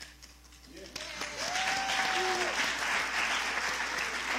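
An audience at a film screening reception at Newark Museum breaks into sustained applause, a dense wash of clapping that builds after a moment and holds steady, with a voice speaking briefly over the start.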